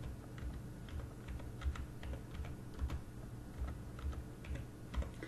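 Soft, quick keystrokes on a computer keyboard while HTML table code is entered, irregular clusters of clicks at close range in a quiet room, no voices.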